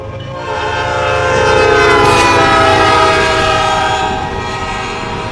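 A northbound CN freight train led by an EMD locomotive passes close by, its loud rumble swelling and fading while a sustained horn blast sounds through the middle of the pass.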